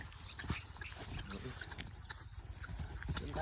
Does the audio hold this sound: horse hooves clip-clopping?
yes